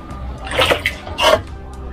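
Water poured from a 750 ml mug into a container, two short splashing gushes about half a second apart, close by and fairly loud over a quiet background.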